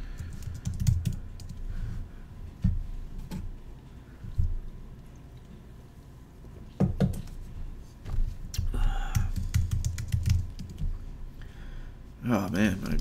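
Typing on a computer keyboard while building a website: bursts of quick key clicks with pauses between, fairly close, alternating with someone talking.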